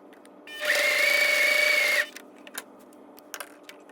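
A sewing machine stitches a seam on a fabric drawstring bag in one close, steady whirring burst of about a second and a half, followed by a few light clicks and taps.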